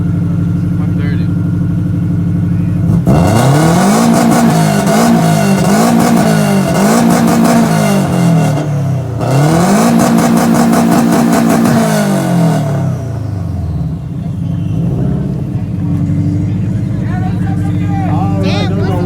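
A car exhaust revs hard at a Subaru-sponsored car meet's exhaust loudness competition, two long, very loud bursts of rising and falling engine revving separated by a brief dip, then settling to idle while voices talk nearby.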